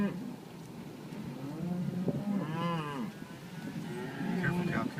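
Cattle moo on Oregon 205 during a cattle drive, with one long, drawn-out low moo in the middle and a second call near the end, heard over a steady background rumble.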